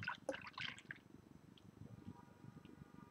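Mike Stout Nitro beer poured hard from a freshly opened bottle: a brief splashy gush at the start, settling into a steady fizzing, bubbling hiss of foaming liquid, fairly quiet and close.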